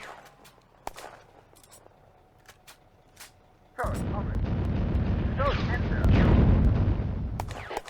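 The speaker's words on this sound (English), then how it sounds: "The artillery smoke mission fires." Artillery fire from a smoke mission in the wargame Firefight: quiet scattered clicks at first, then a sudden loud sustained rumbling roar of firing and explosions that swells toward the end.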